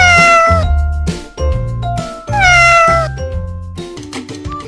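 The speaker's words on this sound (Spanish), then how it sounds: "El gato." A cat meows loudly and close several times, long drawn-out wailing calls with short gaps between them, set over light background music.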